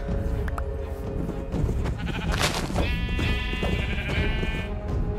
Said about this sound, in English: I don't think the sheep are going to stop.